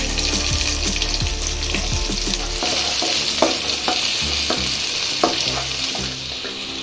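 Shallots and broken dried red chilies stir-fry in hot oil for Erode-style Nallampatti chicken, giving a loud, steady sizzle broken by repeated scraping strokes of a spatula against the pan.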